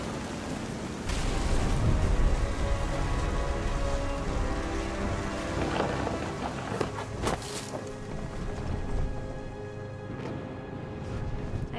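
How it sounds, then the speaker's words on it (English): Steady rain pours and patters on surfaces during a storm in the video game What Remains of Edith Finch, a dense, continuous wash of sound with scattered sharper drops and no clear thunderclap. "The thunder sounded much too close and full of angry power."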